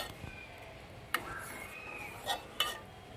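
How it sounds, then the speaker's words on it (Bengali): Boiled milk stirred slowly in a pot for payesh: a faint, low background simmer with a few soft spoon scrapes and light metallic clinks against the pot. "যে দুধটা ফুটে গেছে, এবার আস্তে আস্তে নাড়িয়ে দেবো।"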